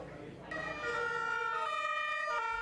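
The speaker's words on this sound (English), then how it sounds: "The familiar sound of emergency vehicles." Emergency vehicle sirens wail in a German city on high alert after a violent attack, a steady rising tone that swells louder after the first half second and holds strong under faint street rumble.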